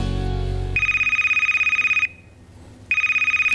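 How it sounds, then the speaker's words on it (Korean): A studio hotline telephone rings on a live TV economics call-in show. It gives electronic double-pulsed trills, one burst of about a second and a half, a short pause, then another burst. At the start, music fades out under the first ring. "지금 한라인 벨이 울렸습니다"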